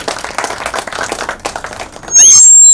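An audience applauds at a teaser launch event for a Hindi comedy film, a dense burst of clapping that stops abruptly and gives way to a loud, steady electronic tone.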